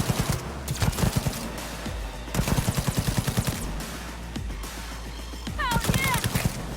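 Smart rifle fire in Cyberpunk, loud rapid automatic bursts in short volleys separated by brief gaps, with a whistling electronic tone near the end and scattered game sounds between.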